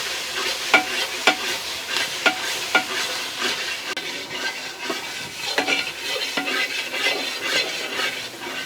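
Thick postpartum herbal lehyam paste being stirred in a pan, with a steady run of scraping, sticky stirring strokes, some sharper clicks of the spoon against the metal, and a soft sizzle underneath, close and continuous.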